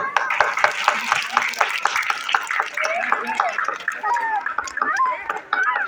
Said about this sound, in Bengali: ওর জন্য একটা হাততালি